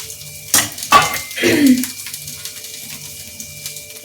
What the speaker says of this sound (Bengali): এবার আমি এটা ঢাকা দিয়ে দিচ্ছি।